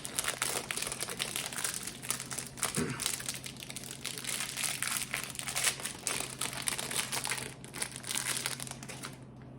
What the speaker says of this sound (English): Okay, so maybe I should just sweep the plastic off.